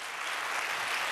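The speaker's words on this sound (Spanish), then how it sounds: "Fuerte ese aplauso." A short burst of loud applause from a church congregation at a Sunday service, dense and even clapping with no one speaking over it.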